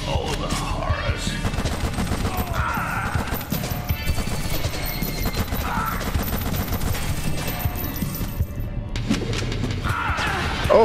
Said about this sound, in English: Oh, crappy grenades.